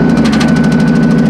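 A 2002 Ford Taurus derby car engine idles on five cylinders, a loud, close, throbbing run with an even pulsing rhythm.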